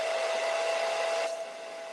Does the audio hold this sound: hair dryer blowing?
yes